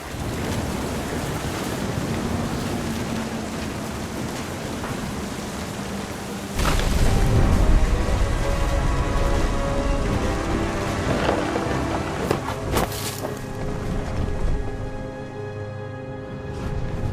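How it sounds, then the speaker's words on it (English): Thunderstorm with rain by the sea in What Remains of Edith Finch, a roaring wash of wind, rain and surf that swells sharply into a heavier rumbling burst midway before easing off. "The thunder sounded much too close and full of angry power"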